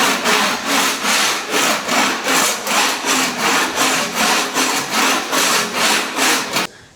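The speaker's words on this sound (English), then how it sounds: "So that's the reason why I use a scraper." A scraper drawn across a flaked epoxy floor to knock off excess flakes makes loud, steady, rhythmic rasping strokes, about two per second, close by, ending abruptly.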